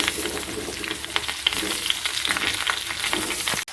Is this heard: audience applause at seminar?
no